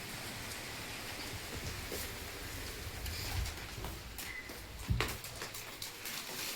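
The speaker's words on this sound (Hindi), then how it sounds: "ये बारिश होने लगी, सुबह से ही हो रही बारिश।" Steady rain falling on a morning, a constant soft hiss of drops with a couple of louder nearby patters, heard alone without talk.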